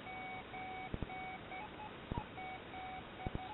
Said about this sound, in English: So an occasional couple of sort of rising beeps